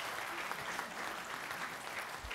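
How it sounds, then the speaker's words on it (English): Church congregation clapping after a baptism at an Anglican service, a faint, steady patter of applause heard at a distance for a couple of seconds. "Give her a clap."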